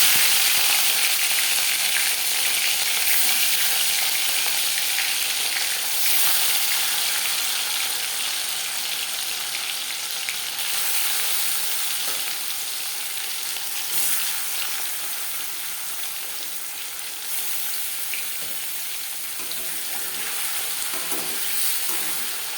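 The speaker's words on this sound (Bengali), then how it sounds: "পাঁচ চামচ রিফাইন্ড অয়েল গরম করে নিয়েছি এবার দিয়ে দেবো ম্যারিনেট করে রাখা মাছ" Marinated katla fish frying in hot refined oil for a Bengali doi katla dish gives a loud, steady, close-up sizzle that hisses on without a break, with no talking.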